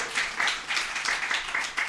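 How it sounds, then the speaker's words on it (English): Audience at a kirtan class gives a short burst of steady applause, many hands clapping together at moderate volume in a room, brief and continuous. "So big round of applause."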